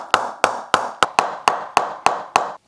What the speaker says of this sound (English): Is there anything worse in sport when it comes to equipment than knocking in a cricket bat?